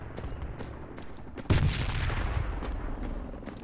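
Grenade explosions in the game Project Reality crash out with one heavy, close boom, amid scattered gunfire and distant rumbling blasts before and after.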